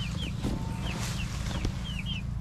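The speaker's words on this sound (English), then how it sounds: "I'm very weary because I've never dealt with chickens" Chickens cluck softly in short, scattered calls over a low steady hum, a few quick chirping notes repeating close by.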